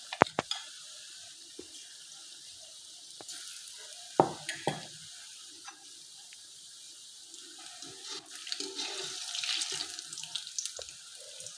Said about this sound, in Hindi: साथ साथ इन्हें हिलाते रहें ताकि ये चारों तरफ से ब्राउन होना शुरू हो जाएं